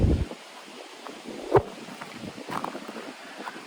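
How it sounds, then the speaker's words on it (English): Wind buffets a microphone outdoors in soft, uneven gusts, with a brief low rumble early on and faint rustling underneath, no voices. "It's a bit windy as well."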